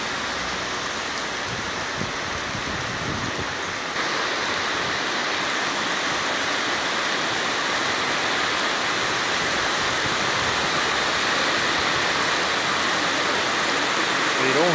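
Heavy rain pours in Livramento's Chapadão area, with water running along the ground: a dense, steady hiss that stays loud and unbroken from start to finish, with no voices over it.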